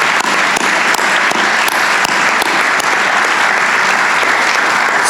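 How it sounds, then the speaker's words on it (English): At a senior awards night, a crowd gives loud, continuous applause, with a dense wash of many hands clapping and a few sharper claps standing out. "Give them a round of applause."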